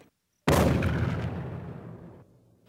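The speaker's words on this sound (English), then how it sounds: "The forest was rife with the crack of gunshot." A single loud, heavy blast goes off in a forest, a booming gunshot or explosion with a long rumbling echo that slowly fades.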